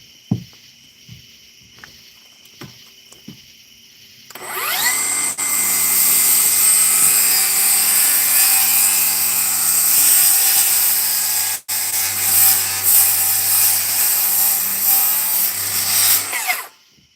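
A power saw cutting wood to trim a piece for a chicken coop: after a few quiet knocks, a loud, steady high-pitched whine runs for about twelve seconds with a brief break partway through, then stops.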